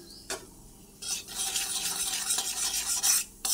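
Chilies and white mustard seeds fry in oil in a pan. Quick bursts of sizzling and scraping stir strokes come close and clear, with a louder stretch of stirring in the second half.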